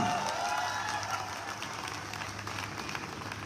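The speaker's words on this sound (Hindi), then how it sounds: "आपकी कंपनी के रचयिता डॉक्टर संजीव कुमार सर के लिए एक बार जोरदार तालियां।" A crowd at a company motivational event applauds for a sustained stretch, many hands clapping in a dense, steady wash that eases slightly as it goes on.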